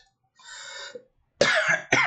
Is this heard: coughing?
yes